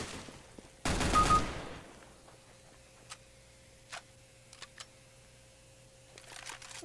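A single loud gunshot burst in the shooter game CS:GO, followed by a quiet stretch of faint clicks and ticking footstep-like sounds, with a soft rattle near the end.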